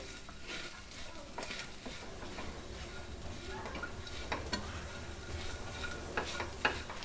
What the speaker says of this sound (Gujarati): આવી રીતે 1-2 મિનિટ માટે શેકવાનું છે આપણે